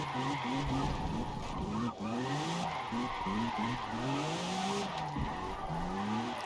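A car slides sideways with its handbrake pulled in a racing video game, tires skidding and squealing steadily as the engine rises and falls through repeated revs, loud and continuous throughout.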